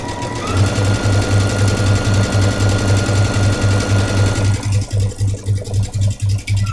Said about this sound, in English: I'm going to go sew this triangle on.